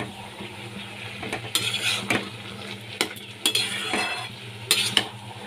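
A spoon scrapes and stirs spices into ash gourd in a frying pan, with irregular clinks and scrapes against the pan over a faint sizzle, close up and with no voices.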